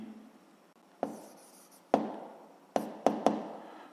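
Pen writing on paper, a handful of sharp tapping strokes followed by short scratching scribbles, close and quiet, no talking.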